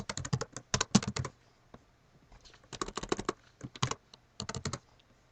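Keys clatter on a computer keyboard as a name is typed into a CRM formula field, coming in quick bursts of clicks separated by short pauses, close and fairly quiet with no voices.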